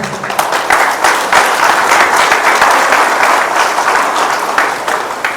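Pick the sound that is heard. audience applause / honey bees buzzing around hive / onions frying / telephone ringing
audience applause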